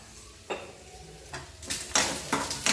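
Potato fry stirred in a pan with a utensil, a few sharp metallic scrapes and clinks, sparse at first and then quicker and louder toward the end, with faint sizzling underneath.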